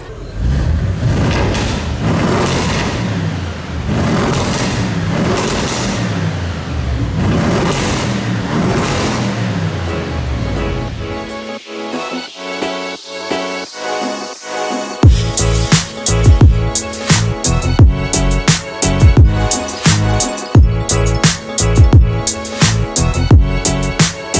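An Audi RS6 Performance fitted with an Akrapovic exhaust revs in an underground space. A deep, rolling rumble gives way to a rapid series of sharp, loud exhaust bangs and crackles that echo closely.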